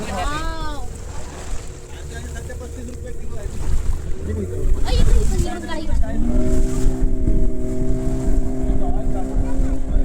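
A motorboat engine drones at sea off Vengurla–Nivati, a steady close hum with shifting pitch as the boat maneuvers and reverses, mixed with wind noise and people talking.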